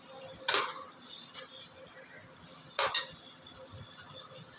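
Masala sautés in oil in a pan for coconut milk turmeric rice, giving a soft steady sizzle broken by two sharp scraping clatters of a spoon against the pan.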